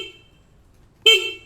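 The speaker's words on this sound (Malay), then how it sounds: "bila kita tekan horn" A CFMOTO 800MTX motorcycle horn fitted with spotlights gives a short beep, then after a pause a louder, sharper honk sounds close by.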